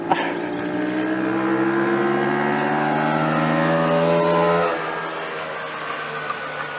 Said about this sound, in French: Cette moto se moque de nous.